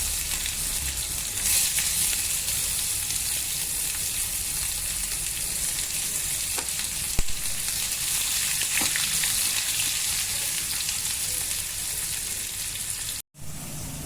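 Chopped onion frying in a pan with fennel seeds and asafoetida, giving a steady, loud, close sizzle that runs unbroken throughout with no talking.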